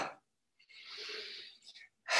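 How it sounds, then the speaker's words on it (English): A single deep exhale from the belly, voiced with a soft breathy sound, heard close and fairly quiet during a guided movement break, with a brief breath at the end. "Exhale."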